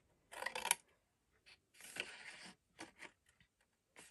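Scissors cut paper to miter pieces of a tall explosion board gift box: a few quick, close snipping bursts separated by short quiet gaps, with no talk.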